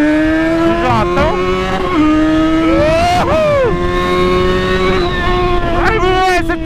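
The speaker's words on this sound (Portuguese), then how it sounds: "essa motinha é barulhenta, hein?" A small, noisy motorcycle engine revs hard and repeatedly, its pitch sweeping up and down in loud, close bursts that continue without pause.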